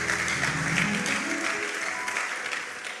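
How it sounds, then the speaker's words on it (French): A church congregation applauds steadily for about three seconds, a dense wash of clapping with a few voices briefly rising underneath. "Est-ce qu'on peut acclamer pour nous-mêmes?"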